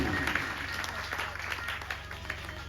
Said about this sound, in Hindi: सबसे बड़ा एक ताली हनुमान सिंह बिहार के लिए।